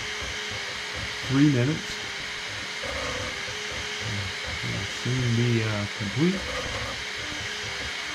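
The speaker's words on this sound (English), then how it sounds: "It's really cool how the 3D printer works." A Bambu Lab P1P 3D printer runs with a steady fan-like whir and faint motor hum, while someone talks over it in short bursts.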